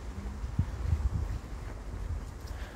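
Wind blowing outdoors at a war cemetery, a soft continuous low rushing like distant surf, with a few brief low thumps of microphone buffeting near the start, no voices.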